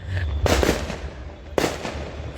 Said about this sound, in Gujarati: લગનના ફટાકડા ફૂટે છે